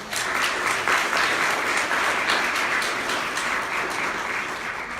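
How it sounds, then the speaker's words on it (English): An audience at a social work student awards ceremony on a university campus applauds in an even, continuous wash of clapping throughout five seconds, with no speech over it. "Can we give them a quick round of applause?"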